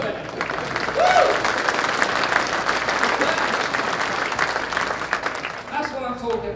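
An audience at a land investment expo talk claps and cheers in a sustained burst of applause lasting several seconds before fading, with a whoop near the end.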